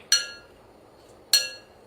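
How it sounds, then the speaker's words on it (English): A parrot knocks against a glass bowl twice, about a second apart, each a bright ringing clink that fades quickly in a quiet room. "He can't resist banging on the bowl."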